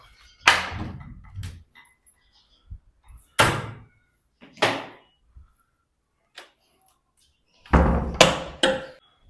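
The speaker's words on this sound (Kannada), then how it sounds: "Door open ಮಾಡ್ಬಿಡೋಣ." A series of loud thumps and clunks, like a door being handled and opened, spaced out with quiet gaps between them.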